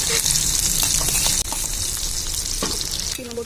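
Capsicum frying in hot oil gives a loud, dense sizzle that hisses continuously up close, broken by a brief dip and a few clinks of a stirring utensil.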